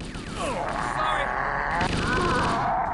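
Rapid gunfire in the video game Halo: Combat Evolved, a loud continuous burst of shots with shouting and voice chatter over the top throughout.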